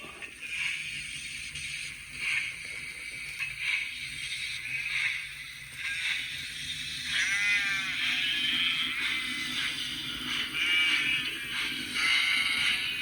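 Sheep bleating sound effect from a Hornby HM7000 model train sound decoder, several wavering bleats repeating over a faint mechanical running hum from the model locomotive.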